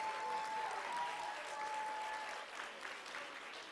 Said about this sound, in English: Another round of applause for Ms. Suzanne Matthews and Larissa.